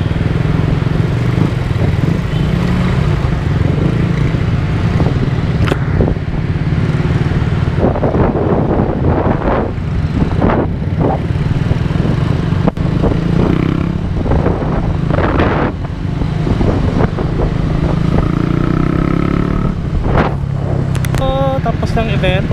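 Motorcycle engines running at a road safety remembrance event, a loud continuous low drone with revving swells and passing bursts, mixed with crowd noise and people talking nearby.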